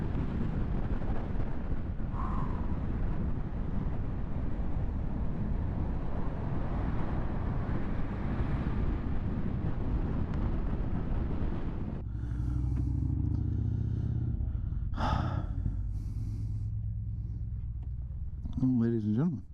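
A 2022 Zero SR/S electric motorcycle pulls away at full throttle, heard as a loud sustained rush of wind and motor noise that cuts to quieter road sounds near the end, with a voice briefly speaking.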